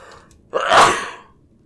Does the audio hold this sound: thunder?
no